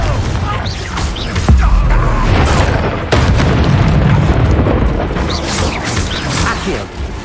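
A Confringo fire spell in the Hogwarts Legacy video game bursts into a loud, booming explosion with a crackling, rumbling tail during combat, sustained and dense throughout.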